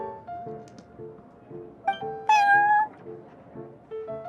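Cartoonish cat meowing in Genshin Impact, a few short bright meows over looping background game music, fairly close and clear.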